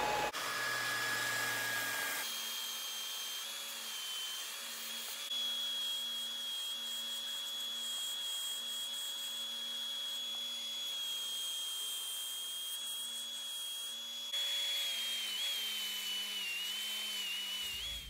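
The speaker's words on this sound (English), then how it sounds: "you can do this with a bandsaw, or you can do it with a belt sander, which is what I'm gonna do it with" A belt sander grinds away at a wooden wahoo spearfishing decoy, a steady high whine with a gritty abrasive hiss running continuously for the whole stretch, close by and with no talking.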